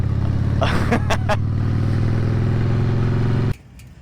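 A 2004 Harley-Davidson Softail rumbles close by with a deep, steady engine throb, some revs and clattery bursts over it, before the engine noise drops away abruptly near the end.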